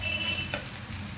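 Chicken frying in a wok makes a soft, even sizzle with one brief scrape partway through, short and without talk.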